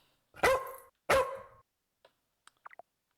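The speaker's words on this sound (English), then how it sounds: "Say hello to the puppy." A puppy gives two loud, close barks, then a few faint yips and whimpers trail off into quiet.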